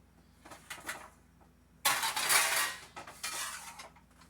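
Filtered water runs into a cooking pot for rigatoni pasta: a light clink of metal first, then a steady, rushing stream that pauses briefly before continuing close by.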